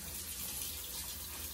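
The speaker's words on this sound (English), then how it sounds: "giving it a nice rinse." Organic blueberries being rinsed under a running kitchen tap, a steady, close hiss and splash of water that stays even and unbroken and has no talk over it.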